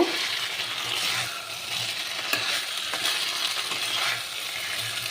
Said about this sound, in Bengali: এবার আমি ফুলকপি আলুগুলোকে ছেড়ে দিলাম দেখো